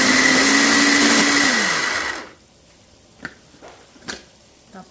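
A small food processor chops pork filling for Shanghai rolls with a loud steady whirring motor that winds down after about two seconds, followed by quiet with a few soft clicks and taps.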